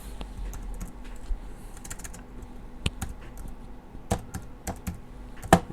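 Someone types a folder name on a computer keyboard, producing scattered light key clicks at an irregular pace, close but fairly quiet, with no talking.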